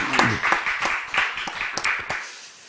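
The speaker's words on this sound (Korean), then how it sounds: "우리 하나님께 영광의 박수 올려드리겠습니다" A church congregation claps during a Sunday afternoon worship service, several quick bursts of applause in a steady rhythm that stop near the end.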